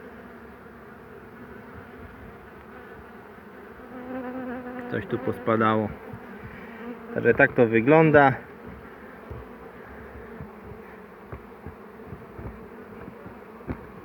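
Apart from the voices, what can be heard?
agitated honeybees buzzing at hives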